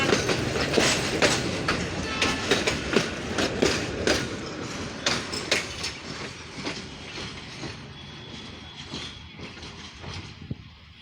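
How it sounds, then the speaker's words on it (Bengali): Dinajpur Commuter local train, hauled by locomotive 2930, pulling into Parbatipur Junction: a loud, close, steady clickety-clack of wheels over rail joints that eases off slightly as it rolls in, with no voices. "লোকাল ট্রেন আসলো"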